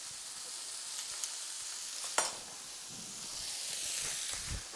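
Onion pieces frying in olive oil in a pot give off a steady bright hiss and sizzle, close and quiet, with a couple of small crackling pops and faint stirring knocks near the end.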